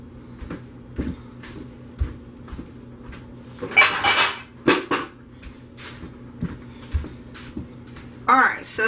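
Dishes, pots and cupboard doors clatter and clink as someone rummages for a pot lid in a home kitchen during hot-process soap making, with scattered knocks and a louder burst of rattling partway through.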